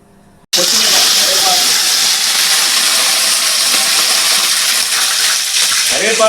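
Curry leaves drop into hot oil in an Indian kitchen and burst into a loud, steady sizzle and hiss that holds close and constant after a sudden start, with faint crackles through it.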